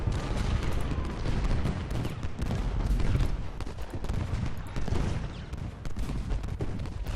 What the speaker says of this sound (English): the artillery started firing